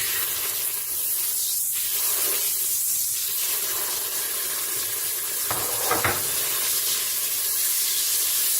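Lamb meat searing on melted fat in a Cookeo multicooker, a loud continuous hiss and sizzle that holds steady throughout, with brief scraping stirs in the middle.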